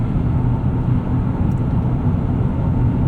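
Steady low engine and road drone inside a 2026 GMC Terrain AT4 with a 1.5-liter turbo and 8-speed automatic on the move, a constant rumbling cabin hum with no distinct changes.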